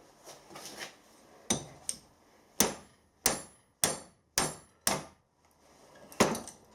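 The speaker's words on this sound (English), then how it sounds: "I want to see if I can get this bearing off the shaft." Hammer blows drive a bearing off a shaft held in a vise, about eight sharp metallic strikes ringing out at an irregular pace, with brief quiet gaps and a few softer taps between them.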